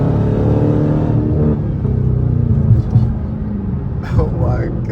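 A Dodge Hellcat with a Legmaker intake rumbles loudly and steadily throughout, with heavy low-end engine roar that barely dips; people talk over it.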